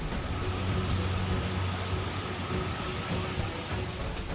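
Heavy rain falls during a flood, making a dense, steady, broadband hiss that stays at the same level for the whole stretch, with no voices.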